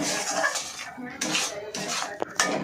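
A metal spoon stirs Kashmiri chili masala in a cooking pan, producing soft scraping swirls broken by a few sharp clinks against the pan's side, close and fairly quiet.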